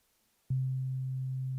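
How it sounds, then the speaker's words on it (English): A steady, pure sine tone from a synthesizer, Ableton's Analog, switches on abruptly after a short silence and holds at constant pitch and loudness, smooth and gentle with almost no overtones. "we're going to start with a sine wave because that's the most basic type of sound."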